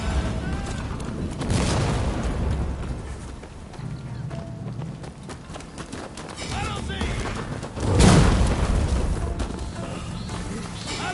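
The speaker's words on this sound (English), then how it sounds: "Bastards have a mighty powerful cannon." Cannon fire in the video game Rise of the Ronin booms heavily, one blast early and a louder one later, amid battle noise and shouting voices.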